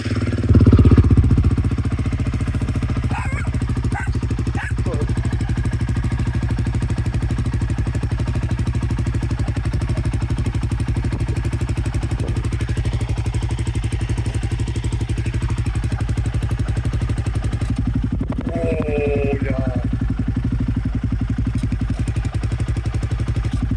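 An engine fitted with a $32 universal aftermarket exhaust with baffle starts with a short burst and then settles into a steady, throaty idle, with a brief mechanical rattle partway through.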